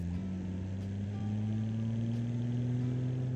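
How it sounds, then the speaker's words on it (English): Redeno car engine shared with the Dolce Vita models in Automation, rumbling steadily on a test drive, close and continuous, pitch rising slowly as it accelerates. "Now it's time to test drive the Redeno, which, as you can see, has a pretty nice engine sound"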